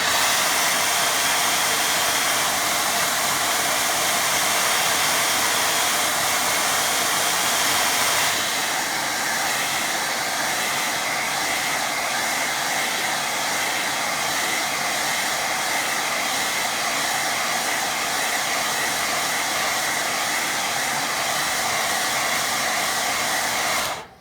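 A hair dryer blows steadily over a wet watercolour painting, a loud continuous rushing whoosh close to the microphone with a slight shift in tone partway through, running alone with no speech.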